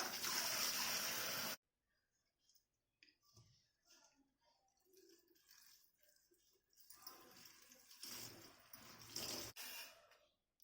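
Loud rush of cold running water over fresh paneer for about a second and a half, then quiet handling noises, soft splashes and a few clinks, ending with brief water bursts.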